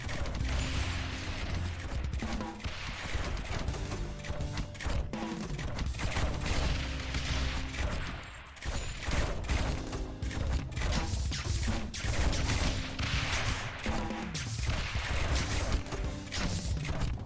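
Mortar towers fire nonstop in the tower defense game Rogue Tower, a dense, loud barrage of booms and crashing impacts layered over game music and effects, continuing throughout without talk.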